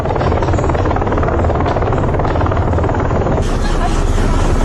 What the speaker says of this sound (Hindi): उनका हेलीकॉप्टर है, हेलीकॉप्टर रखते हैं।